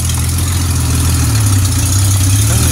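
A dune buggy engine with a dirty, smoky exhaust runs steadily and loudly up close. Its low rumble holds without a break for the whole stretch, and no voices are heard over it.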